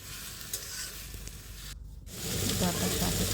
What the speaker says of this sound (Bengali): এখন শাক কষিয়ে দিলাম।